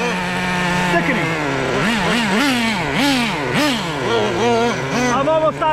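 Restored classic Traxxas T-Maxx nitro RC truck with a 3.3 engine, close and loud, revving hard in repeated rising and falling bursts over a steady high-pitched buzzing drone.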